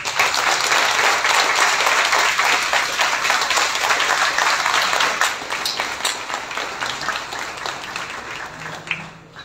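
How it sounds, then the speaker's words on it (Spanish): Loud applause at a university anniversary ceremony, a thick, sustained roar of many hands clapping that stays strong, then thins and tapers toward the end with a few scattered claps. "Brindemos un fuerte aplauso."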